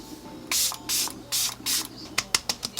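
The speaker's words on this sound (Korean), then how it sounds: "이거 선물 받은 거 갖고 왔어요. 달바 스프레이 세럼." A d'Alba spray serum bottle mists four times in close, even hissing bursts of about half a second each, followed by a quick run of short, sharp clicks or taps; no one talks.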